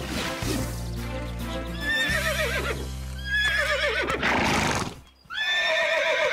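A horse neighs repeatedly, loud shrill whinnies rising and falling, with snorting and a low steady rumble underneath.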